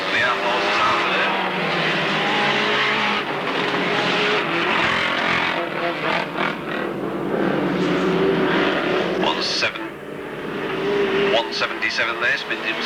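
Outlaws stock cars racing at Alwalton, a dense, loud roar of engines circling the track throughout, with a commentator talking over the noise.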